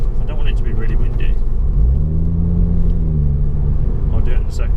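A 2019 MK8 Ford Fiesta ST engine revs up inside the cabin, its exhaust note rising and holding steady over a constant road rumble, with brief voices at the start and end.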